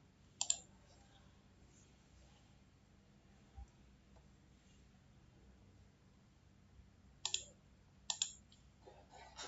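Mouse clicks at a computer, a single sharp pair near the start, a faint tap in the middle, then several quick clicks close together near the end, all close and crisp against a quiet background.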